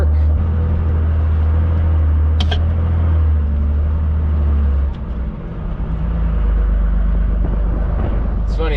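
A heavy pickup truck engine, rigged with an adjusted idle, rumbles steadily as it idles its way up a hill, a deep continuous drone with a brief dip midway and faint clicks on top.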